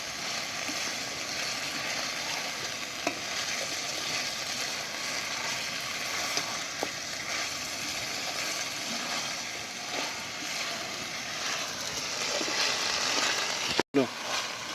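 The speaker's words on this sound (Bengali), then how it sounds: "মশলার সাথে মাংসটা আমি ভালো করে কষিয়ে নেব" Village-style goat meat fries with spices in oil as it is slowly browned for a mutton curry, giving a steady close sizzle throughout with a few small clicks and a sharp knock near the end.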